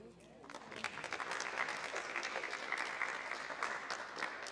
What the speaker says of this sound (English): can we give a little bit of a louder applause for your peers